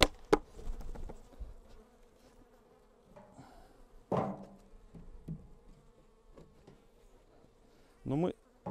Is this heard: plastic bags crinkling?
no